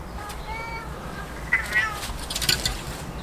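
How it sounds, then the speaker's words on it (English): A talkative cat meows repeatedly at a homestead in the evening, its drawn-out, wavering calls close and fairly loud, with a few overlapping rises and louder cries near the end. "He's a very talkative cat"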